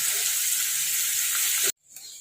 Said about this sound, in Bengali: এই যে সাদা তেলে পনিরটা ভাজছি, একটু নুন দিব আর একটু হলুদ দিব